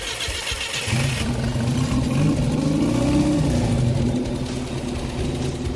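Car engine cranks and fires up, then settles into a loud, steady running rumble with some revving during an oil additive demonstration, heard alone and close.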